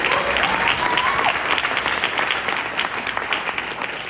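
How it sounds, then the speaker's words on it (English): A crowd breaks into steady, full applause for a speaker, a loud continuous patter of many hands with a brief voice over it near the start. "Let's give him a round of applause."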